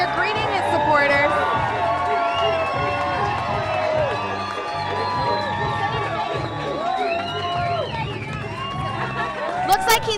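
Supporters cheer and shout as Senator Mark Begich arrives at an election night gathering, a dense crowd roar full of whoops and overlapping talk, loud and sustained.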